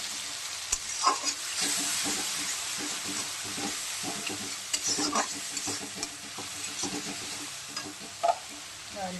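Ground spice mix is stirred into a frying fish curry, making a loud steady sizzle broken by repeated scraping stir strokes at an uneven rhythm, with no voices.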